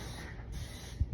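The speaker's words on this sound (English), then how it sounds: "So I'm just gonna prep by just spraying those with a little non-stick spray." A soft, steady hiss of non-stick cooking spray from an aerosol can onto a muffin pan, quiet and close, with a couple of faint low thumps toward the end.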